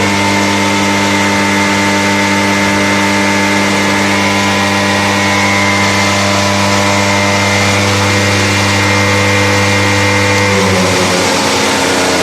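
An internal combustion engine in a lab test rig runs steadily at 10% load, giving a loud, constant drone with strong tonal harmonics that stays even throughout, with no talk.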